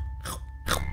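Two quick crunchy bites from a video game, Wumpa Fruit being eaten, close and distinct, separated by a short pause over a low background hum.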